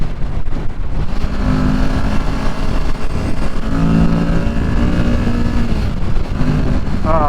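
A 2023 Kawasaki Ninja 650 motorcycle on the move, its engine drone and steady road and wind rush filling the whole stretch at a loud, close level, with no pauses or breaks.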